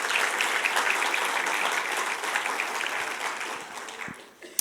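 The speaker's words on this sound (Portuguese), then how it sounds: "Glorifica ao Senhor aí com suas palmas." A church congregation claps steadily in a dense, sustained wash of applause that tapers off near the end, with a faint voice underneath.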